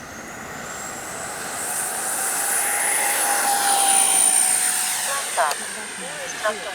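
A Freewing F-14A Tomcat twin 64mm electric ducted-fan RC jet flies past with a high, rising whine that swells toward the middle and then fades slightly, accompanied by steady outdoor wind noise.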